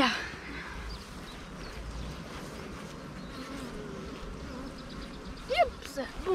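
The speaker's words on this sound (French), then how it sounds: "là, il y a beaucoup d'abeilles comparées à ici" Honeybees swarm around a hive at spring harvest time, a dense, continuous buzz close by. Individual insects drone louder as they pass near, over faint background sounds.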